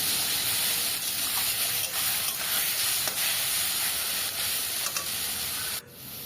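Snake gourd is stirred as it fries in a pan, giving a close, steady hiss broken by repeated scraping strokes. The sound drops away abruptly near the end.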